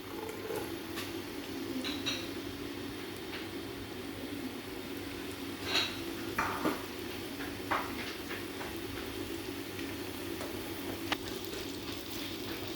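Onion dropped into hot desi ghee in a pot while cooking mutton dum pukht, giving a steady, close sizzle and frying hiss with a few soft clinks and stirring scrapes, no talk.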